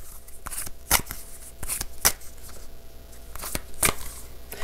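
Tarot cards being shuffled up close in quick riffling bursts, several crisp flutters separated by short pauses, with no talking.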